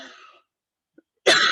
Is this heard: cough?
yes